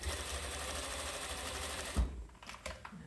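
A sewing machine stitches teddy bear fabric pieces, running in a steady fast whirring chatter that stops abruptly with a thump, followed by a few faint clicks and brief mechanical taps.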